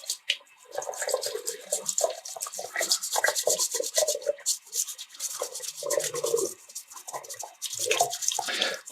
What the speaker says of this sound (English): here we are, washing a graphics card